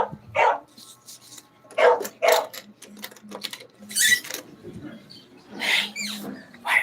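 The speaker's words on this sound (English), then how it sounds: "My dog is so noisy." A chow chow dog barks repeatedly indoors, several loud close barks spaced irregularly, with a person talking softly between them.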